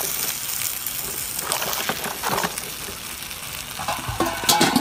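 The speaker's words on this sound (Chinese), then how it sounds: "继续煎啊。" Food frying hard in a wok with garlic, ginger and scallion, soy sauce and cooking wine, a loud steady sizzle broken by bursts of scraping and stirring, heard alone without talk.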